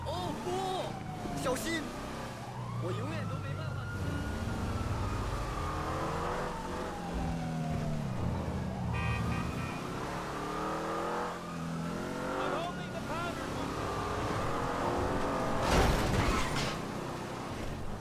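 Car engine in GTA 5 revving up and down through repeated accelerations and shifts, heard continuously under ongoing talk and game sounds.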